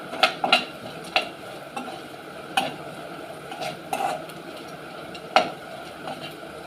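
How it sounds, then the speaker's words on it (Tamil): Green chillies sautéed in a pan, with a soft continuous sizzle broken by sharp scraping and tapping strokes of a spatula against the metal at irregular intervals, close up and without any talking. "பச்சை மிளகாய் வந்து சேர்த்துக்கிட்டீங்க கொஞ்சம் நல்லா வதக்குங்க."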